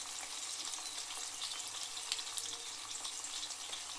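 Onions frying with salt in a pan for a field bean curry, a steady crackling sizzle with small spits and pops throughout, fairly close and unaccompanied by talk.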